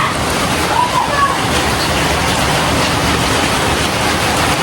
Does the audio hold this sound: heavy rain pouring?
yes